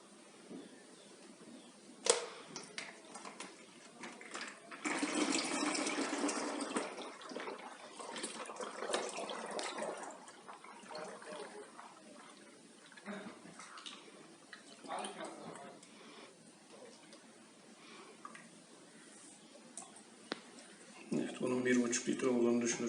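Transmission oil poured into a car gearbox makes a soft, broadband liquid rush that swells for a couple of seconds and returns near the end, with faint voices and workshop noise around it.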